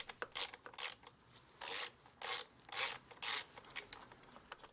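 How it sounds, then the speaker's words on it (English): A ratcheting 5/32 hex Allen bit backs out two screws on a Poulan Pro string trimmer, making several close, crisp bursts of clicking with short pauses between them. "Now I'll remove the two screws using a 5/32 hex Allen bit."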